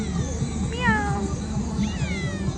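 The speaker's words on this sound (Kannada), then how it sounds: "ಬಿಲ್ಲಿ ಬರ್ತಾ ಉಂಟು, ಬಿಲ್ಲಿ." A cat meows twice in Dubai, the first a longer wavering call and the second a shorter rising one, both close and clear over a steady background hum.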